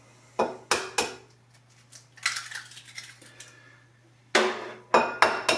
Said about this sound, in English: eggs cracking.